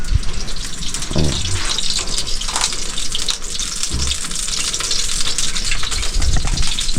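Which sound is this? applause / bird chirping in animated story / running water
running water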